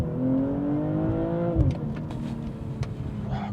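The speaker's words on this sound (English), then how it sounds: "Foot on the brake, activate, launch control." BMW M240i xDrive launching hard under launch control: loud engine roar climbing steadily in pitch, then a sharp thump as it shifts gear and pulls on at lower revs, heard from inside the car with no talking.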